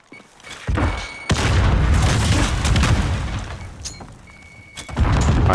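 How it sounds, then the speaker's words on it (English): Grenade explosions in a Call of Duty League 2020 match, loud booming blasts with a sustained rumbling roar and sharp pops, a fresh burst near the end. "Trying to hit some early nades middle of the map."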